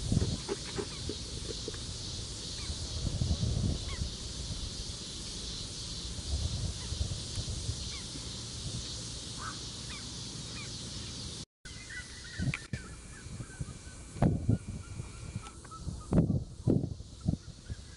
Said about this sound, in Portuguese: Igual o Siriema que tá cantando lá na frente